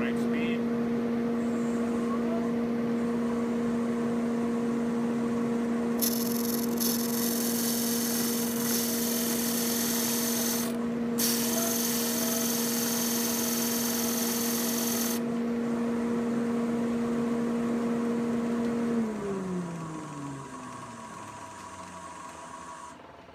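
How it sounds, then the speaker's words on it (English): Shopsmith disc sander running together with a dust collector, giving a steady loud motor hum and whine with a broadband rush of airflow, then winding down and fading near the end. "turn on my dust collector, turn on the machine at the right speed"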